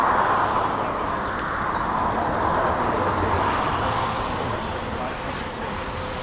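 A Voyager and a Typhoon fly past together in an RAF flypast rehearsal for the King's Birthday, heard as a steady distant jet roar under a person talking.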